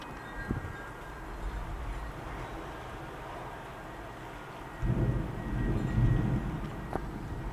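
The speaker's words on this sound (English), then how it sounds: "It's really starting to rain." Rain falling during a thunderstorm, a steady low wash of noise with a deep rolling swell of thunder rising midway and lingering, heard from nearby without talk.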